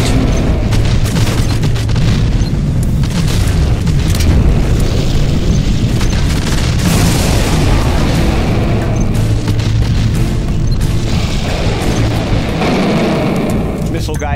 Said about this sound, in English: I'm really curious to see what the missiles will do to this target.